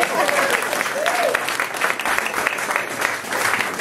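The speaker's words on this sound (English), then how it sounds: "So can we have a round of applause for Kirsty?" A crowd at an art exhibition opening in a cafe applauds, a dense, steady round of clapping with a few voices and cheers rising briefly through it.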